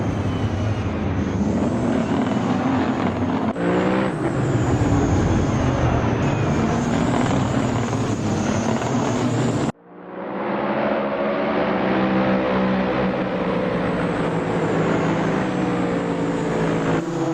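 GT3 race cars at Sepang in a racing video game, a loud continuous engine roar from a pack of cars, cutting abruptly to a new shot of revving, shifting engines, with no talk.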